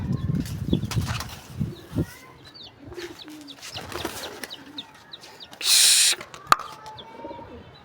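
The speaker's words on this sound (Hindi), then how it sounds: "तो बादशाह हमारा भी उड़ के वापस आया" A sudden burst of wings flapping as a pigeon takes off, amid outdoor background sounds, scattered bird noises and a sharp knock.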